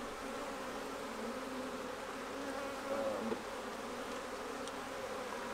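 Honeybees hum in a steady, continuous drone at an opened hive during an inspection, with a brief swell of louder buzzing near the middle and no talking.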